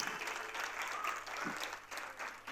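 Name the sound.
audience applauding parents at school prize ceremony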